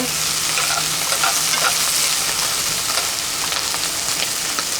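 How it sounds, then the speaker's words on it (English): Mushrooms frying in a pan at a camp cooking setup, a loud, continuous close sizzle with stirring scrapes and crackles running throughout, no talking. "So my mushrooms just start to fry."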